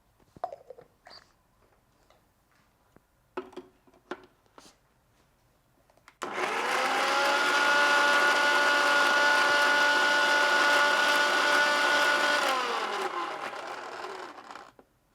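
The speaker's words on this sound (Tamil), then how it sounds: "இந்த வாழைப்பழத்தை ஜாரில் போட்டு நல்லா அரைச்சி எடுத்துடலாம்." A mixer grinder whirs loudly and steadily for several seconds as it blends bananas in a jar, then winds down, following a few quiet clicks and handling noises.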